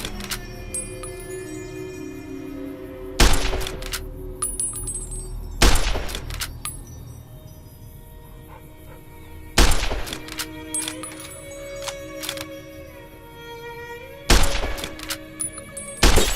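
Gunshots strike sarsaparilla bottles in Fallout: New Vegas, four loud, sharp cracks with shattering spaced several seconds apart over a quiet ambient game backdrop.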